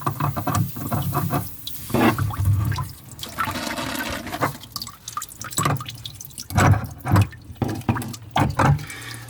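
Water splashing and dripping steadily as it leaks from behind a tap handle spindle, close and busy, with irregular spurts and gurgles throughout.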